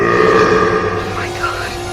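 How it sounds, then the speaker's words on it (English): A deep, guttural burp-like eruption from the 1973 film The Exorcist, loud and sustained with a rough, gurgling edge that rises and falls over two seconds. "It sounds like a burp to me."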